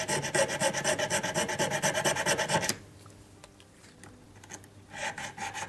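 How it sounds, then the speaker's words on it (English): A hand file rasps rhythmically against the sides of a crown set ring in fast, steady back-and-forth strokes, stops abruptly, leaves a quiet pause with faint scrapes, then resumes more softly. "be careful not to come in contact with the shank as you do the filing on the sides"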